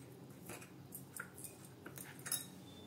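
A spoon pressing and smashing grated jaggery in a bowl, heard as soft, quiet scrapes and light metallic clinks at an irregular pace, close and faint with no talk.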